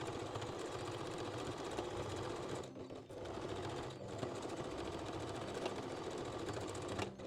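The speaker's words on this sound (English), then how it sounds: "secure it with a straight stitch" A sewing machine runs a steady straight stitch through bikini top fabric, a dense continuous whir with two brief pauses before it picks up again at even speed.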